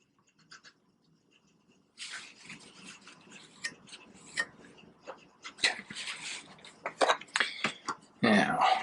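A knife blade is stroked across a whetstone: quiet at first, then repeated close scraping and rasping strokes in uneven bursts that grow louder toward the end.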